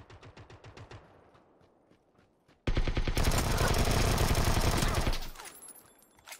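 Gunfire crackles in the battle royale game PUBG: a string of sharp, evenly spaced shots opens, followed after a pause by a loud, sustained rapid burst lasting a couple of seconds before it fades.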